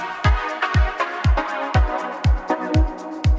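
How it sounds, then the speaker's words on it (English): A Krotos Audio Concept 2 virtual instrument patch pulses with a steady run of punchy, deep bass-heavy hits. Each one drops sharply in pitch under a sustained bright synth bed, and they repeat about every half second, loud and close. "What you are hearing is Concept 2 from Krotos Audio."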